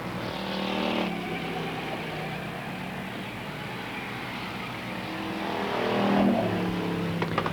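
Challenger division race cars finish a heat at Holland Speedway through the final turns, engines roaring and swelling as they pass, loud and fairly close, with a second surge near the end.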